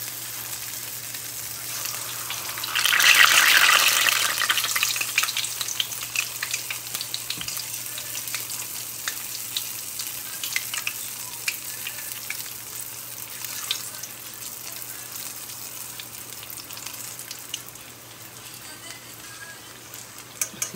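Picarones, Peruvian fritters, sizzle in hot oil with a steady crackling hiss that swells sharply for a moment as batter drops in, then settles into a continuous fry with occasional pops.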